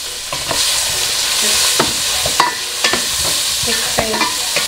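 Garlic and onion fry in a pan with a steady, close sizzle, broken by sharp clinks and scrapes as they are stirred throughout.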